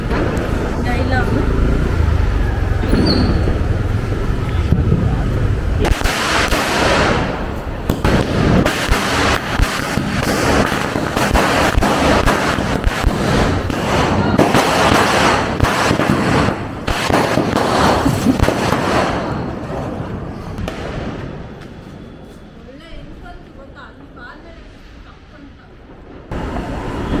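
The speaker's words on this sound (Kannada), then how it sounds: "ಯಶವಂತ್ ಪಟಾಕಿ ಯಾರ್ದಾದ್ರೆ ನಾವು ಹಚ್ಚೋರು" Diwali firecrackers and fireworks exploding in a run of loud, sharp bangs and crackles over many seconds, with people talking and shouting nearby.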